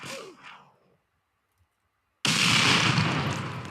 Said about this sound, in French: tu prends la grenade et tu la lances ici